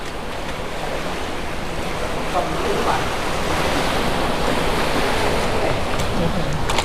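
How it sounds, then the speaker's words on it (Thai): Strong, fast-flowing river water heard up close as a steady, loud rushing wash that builds slightly and stays constant throughout. "นี่น้ำไหลแรงครับ"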